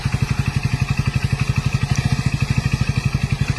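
A new motorcycle on a test ride runs with a steady, rapid engine thump, near and continuous, with no talk over it.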